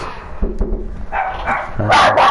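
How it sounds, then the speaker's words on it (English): Dogs bark in short, close, loud bursts, a few yips and barks coming in irregular clusters with one sharper, higher bark near the end. "There's the barky barks from my dogs."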